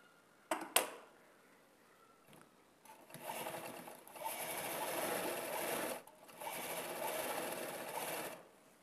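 Sewing machine stitching a fall onto the border edge of a saree, running in two sustained bursts of steady whirring after a couple of short clicks, close and clear with no talk.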